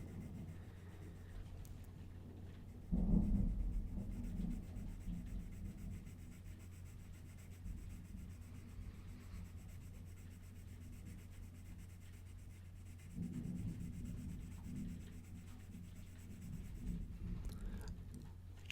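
A Derwent Lightfast colored pencil rubbing across Derwent Lightfast paper, making faint, close scratchy strokes in a few short bursts over a quiet background.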